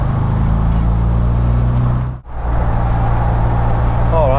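An MGB Roadster drives through a town centre, its engine a steady, loud drone that dips briefly mid-way and then swells again, with a faint rising whine near the end.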